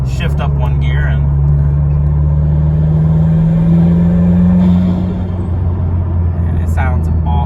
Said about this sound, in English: see if I can get one more little turbo noise for you guys before we sign off